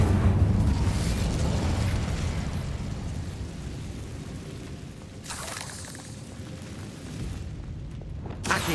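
Incendio fire spell cast in Hogwarts Legacy: a loud, rushing fiery burst that washes over a dense bed of game sound, followed by a second whooshing flare partway through and a sharp pop at the end, no talking.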